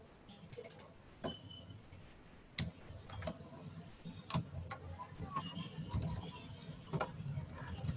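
Irregular keystrokes clatter on a computer keyboard as code is typed, with sharp isolated clicks and short bursts, moderately close and fairly quiet, no one talking.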